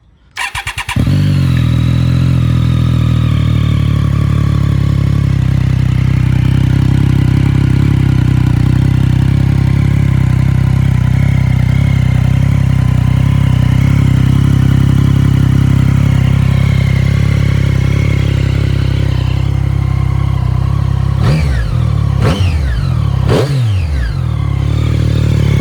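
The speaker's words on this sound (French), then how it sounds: "je vais vous faire écouter le bruit de la ligne SC Project avec la chicane" A Triumph Street Triple 660 S three-cylinder motorcycle with an SC Project exhaust and baffle idles loudly and steadily with a deep, throaty exhaust, then gives a few sharp revs near the end.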